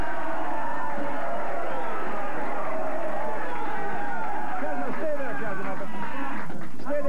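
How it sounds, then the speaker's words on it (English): A 1992 television studio audience cheers and shouts in a loud, sustained roar of crowd noise that swells and churns throughout. "How about a big cheer for Casanova Ace?"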